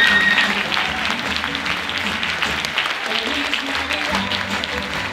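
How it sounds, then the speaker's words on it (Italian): Sustained audience applause for a dance school at a Christmas music, dance and theatre show, dense and steady throughout with voices faintly mixed in. "Un altro grande applauso merita l'intera scuola di danza di Cavamanara"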